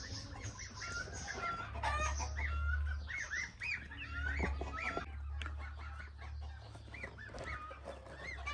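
Aggressive farmyard turkey amid other poultry, a run of repeated gobbling and clucking calls close by over a constant low rumble, with no speech.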